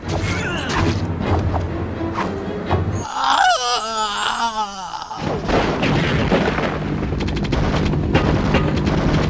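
Gunfire and violent combat effects from the first-person PC shooter Soldier of Fortune, loud and dense throughout, with a short music sting or warbling effect in the middle before the shooting resumes.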